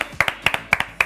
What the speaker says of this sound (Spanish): ¡Aplauso grande!